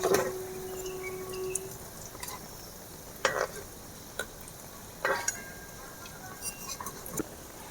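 Onion and bottle gourd leaf pakoras fry in hot oil with a soft steady bubbling hiss, while a utensil gives several sharp clinks and scrapes as they are turned in the pan.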